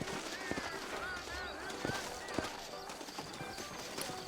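Steady clip-clop of horse hooves at a brisk pace in Red Dead Redemption, with faint voices and game-like ambience underneath.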